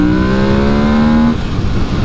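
A Fantic Caballero 700 twin-cylinder motorcycle engine climbs steadily in pitch as it accelerates hard through second gear, loud and close, then the tone breaks off into rougher engine noise.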